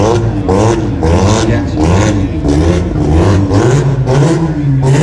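Race car engines roar and rev hard at the Garrett Brisbane Jamboree 2024 in Brisbane, loud and continuous, with repeated surges of acceleration and a commentator talking over the noise.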